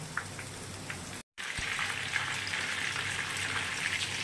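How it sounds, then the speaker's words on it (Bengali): A batch of battered shrimp deep-frying in hot oil, crackling and spattering in a dense, continuous sizzle with scattered pops, broken once by a short silent gap. "হ্যাঁ, সবগুলো দিয়ে এবার ভেজে নিচ্ছি।"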